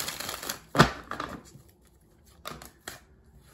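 Tarot cards are riffled and shuffled in quick bursts, with a loud snap near the start and softer riffles after, close and alone.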